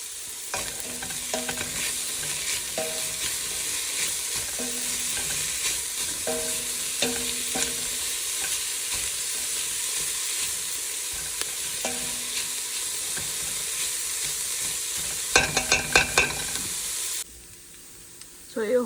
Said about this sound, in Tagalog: Then, igigisa ko muna yan.